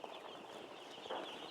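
Chickens kept as poultry with a heater cluck faintly in a brief burst over a steady background hum.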